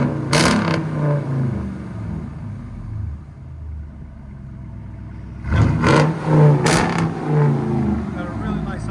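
A 2018 RAM pickup's 5.7L HEMI V8, fitted with an X-pipe and Carven R-Series exhaust, revs in two bursts separated by a lower idle rumble, with people talking nearby between the blips.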